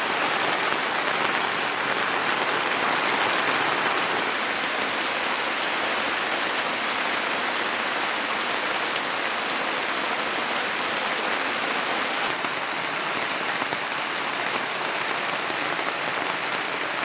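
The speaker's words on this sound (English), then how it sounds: "I don't remember ever being here with so much rain." Steady, heavy rain falls on a wilderness campsite in the North Woods, a dense, even hiss of drops striking surfaces all around without pause.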